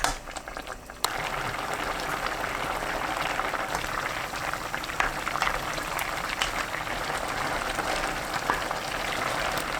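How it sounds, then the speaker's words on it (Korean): A stew of tuna, tofu and chili bubbles steadily on high heat, a dense, even rolling boil with a continuous fizzing hiss, close and moderately quiet, after a brief quieter start, with no talking. "참치, 두부, 고추, 미림 2큰술 넣고 센 불로 3분 끓여주세요."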